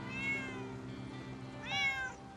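Two drawn-out cat meows from the video game Pets Hotel, the first near the start and a second higher, rising one about two seconds in, with no talking.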